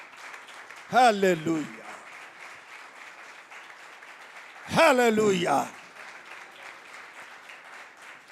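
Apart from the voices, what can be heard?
applause for the power of the cross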